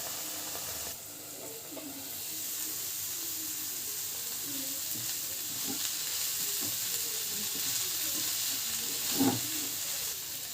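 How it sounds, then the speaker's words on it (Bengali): Thin slices of brinjal fry in a pan at home, giving a steady broadband sizzle throughout with soft scraping and stirring clicks, a louder knock near the end, no voices. "এভাবে বেগুন ভাজা করলে অনেক মজা লাগে"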